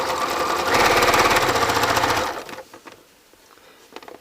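Sewing machine with a piping foot stitching piping onto a pillow made from neckties, a fast rhythmic mechanical chatter for under two seconds, then stopping and leaving faint handling noises.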